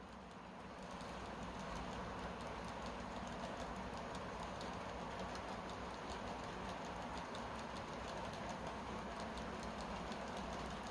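An HO-scale model train rolls steadily along the track with a continuous faint rumble and rapid ticking clicks from the wheels, quiet and even throughout.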